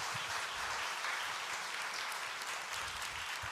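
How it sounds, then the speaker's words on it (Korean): Church congregation applauding at an evening worship service to welcome a guest lecturer, a steady broadband wash of many hands clapping continuously throughout, moderately distant and even in level. "박수로 모시겠습니다."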